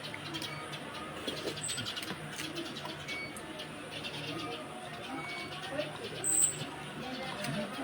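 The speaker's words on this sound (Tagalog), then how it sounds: "Maya yan." A Eurasian tree sparrow gives brief calls outdoors against steady background noise, with people talking nearby.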